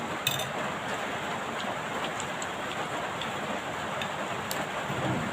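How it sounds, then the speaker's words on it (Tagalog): Steady rain pours down outdoors as thunder rumbles during a storm, with the wash of falling water continuous and fairly loud throughout and a few faint clinks breaking through. "Kumukulog-kulog at kumikidlat-kidlat."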